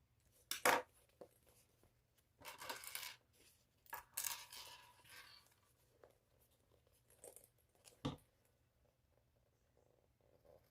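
Scissors trim thread ends on a sewn tote bag in a quiet room, giving a few short, crisp snips and clicks spaced irregularly with pauses between them.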